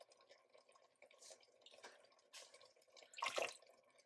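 Water is poured into a pan of pasta in a home kitchen, heard as faint, close splashing and dribbling in short bursts, with a louder splash near the end.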